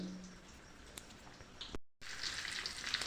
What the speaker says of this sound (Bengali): আজকের আমি একটু ভেজে নিচ্ছি মাছটাকে যাতে মাছটি ভালোভাবে ফ্রাই হয়ে যায়